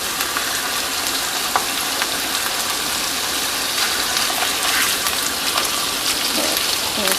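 Chicken grills in a hot pan with a continuous, even sizzle and crackle, loud and close throughout with no breaks.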